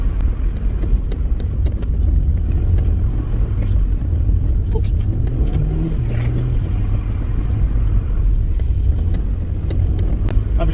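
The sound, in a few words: Rover 25 car driving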